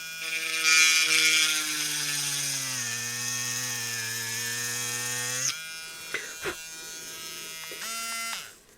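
A small handheld drill bores a hole into a resin keychain piece, a high whining motor that dips in pitch under load, then stops and restarts in short bursts with clicks between.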